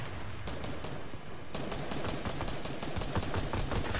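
Fortnite gunfire crackles in a steady, dense run of shots, loud and close throughout, with no talk over it.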